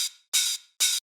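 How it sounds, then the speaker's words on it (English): Electronic hi-hat stem from a dance track, three crisp bright hits of noisy metallic hiss, each lasting a quarter second, evenly spaced and heard alone. "a hi-hat that sounds a bit like this,"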